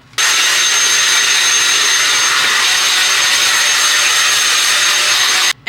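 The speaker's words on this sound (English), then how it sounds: "And use the blow dryer to fluff it out." A handheld hair blow dryer switches on and runs as a loud, steady, close airy roar with a faint high whine, holding constant for several seconds before cutting off, used to fluff natural curly hair.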